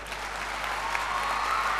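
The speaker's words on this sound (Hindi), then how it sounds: "इसलिए लड़कियों के लिए एक बार ज़ोरदार ताली बजाइए आप।" Steady, loud applause from a large audience at a public event, a continuous wash of clapping filling the whole moment without voices.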